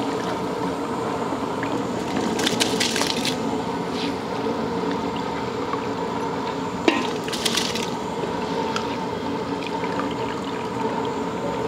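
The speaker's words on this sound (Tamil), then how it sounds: "இப்போ அரிசி சேர்த்துக்கலாம்." Soaked rice is poured into a large pot of boiling water for a 2 kg vegetable biryani, giving a continuous bubbling, pouring wash with a few sharper splashes and clinks, close and steady throughout.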